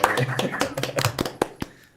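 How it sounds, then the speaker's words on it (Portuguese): A small studio audience at a podcast recording gives scattered, sparse claps, a handful of distinct hand smacks over a voice. "Palmas aí, galera. Pode bater palmas."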